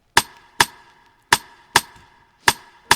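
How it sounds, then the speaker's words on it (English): A metallic percussion hit layered with a rim shot forms an FL Studio dancehall beat element. Six sharp, dry, clicky knocks arrive in a syncopated pattern, each decaying quickly, close and isolated with no voices. "This is like a metallic perk sound and then a rim shot together."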